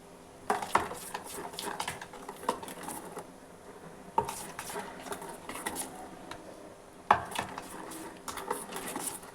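Snack batter of sugar and flour being stirred in a bowl, with soft scraping and repeated clinks of a utensil against the dish, a few sharper knocks standing out; close and fairly quiet, no voices.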